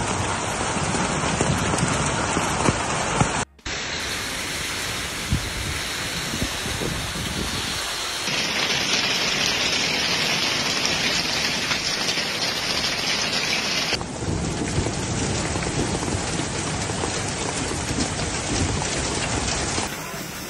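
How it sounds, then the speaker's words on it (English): Heavy rain and hail pounding surfaces during a severe storm in Vigevano and Lomellina, Italy, a dense continuous roar of impacts with abrupt shifts in intensity and no clear voices. "Hailstones in Vigevano and Lomellina."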